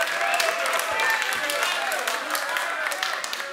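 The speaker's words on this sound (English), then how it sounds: "Now, I'm glad all of you clapped" An audience at a rap battle event applauds, a steady wash of many hands clapping with a few whoops, fading slightly toward the end, while a voice speaks over it.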